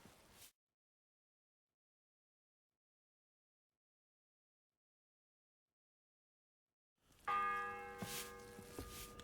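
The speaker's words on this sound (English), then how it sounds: "The 11th toll of the bell." Church bell in Kingdom Come: Deliverance II striking one loud, ringing toll that hangs and decays after a long stretch of silence.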